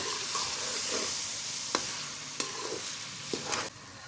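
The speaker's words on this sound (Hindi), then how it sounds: "अब इसकी हमने हलवे की भुनाई करनी है" Carrot halwa being stirred and roasted in a pan, with a steady sizzle of frying broken by several distinct scraping strokes of a spoon against the pan, close and moderately loud, no voices.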